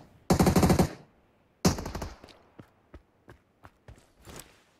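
PUBG Mobile gunfire: two loud rapid automatic bursts about a second apart, the second trailing off into several scattered single shots and light thuds, with no talk over it.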